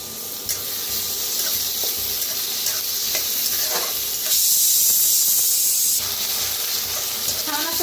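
Crushed garlic and chili paste with chopped onion and curry leaves sizzles steadily in a hot pan for pithla, a continuous loud frying hiss with occasional stirring scrapes, no talking.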